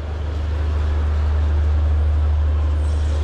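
A metro train stands at a nearly empty metro rail station on a Friday, giving off a loud, steady low rumble and hum that holds without a break throughout.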